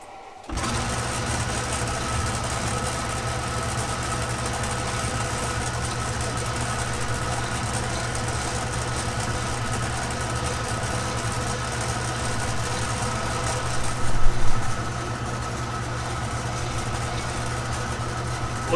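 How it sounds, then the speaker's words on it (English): Motor of an Atlas 10-inch production lathe running steadily on newly installed belts, a constant close mechanical hum and whir with a slight vibration from the motor pulley, briefly louder near the end. "Looks like we're getting a little bit of vibration off of the motor pulley back there."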